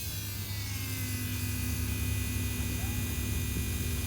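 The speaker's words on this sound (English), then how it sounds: "We have our fuel pump. Pumping in gas." Electric fuel pump priming to siphon diesel from a 7.3 F550 fuel tank, a faint steady electric hum and buzz running continuously throughout.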